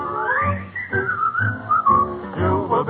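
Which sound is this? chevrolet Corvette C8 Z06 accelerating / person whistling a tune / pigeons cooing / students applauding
person whistling a tune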